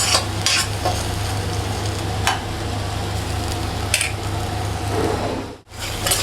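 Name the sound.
vegetables being sautéed for pav bhaji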